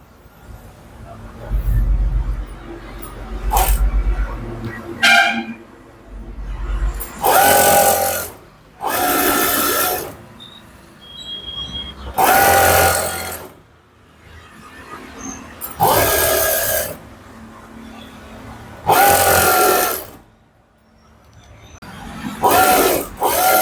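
Sewing machine stitching around a puff sleeve, running in several loud bursts of a few seconds each separated by pauses, with some background noise and faint voices between runs.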